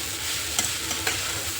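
Kanda poha, flattened rice with onion, gets stirred and mixed in a pan, a soft sizzle under a couple of brief scraping strokes of the spoon, close and alone without talk.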